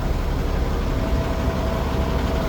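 A 2014 Peterbilt 348 flatbed truck engine idles with a steady, low rumble continuously at moderate loudness, failing to rev, with no voices.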